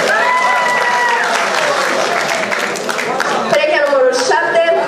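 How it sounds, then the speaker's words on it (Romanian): Applause breaks out at a freshman ball for the sixth couple on stage, sustained clapping from a hall crowd with music and voices running underneath. "Aplauze pentru cea de-a șasea pereche."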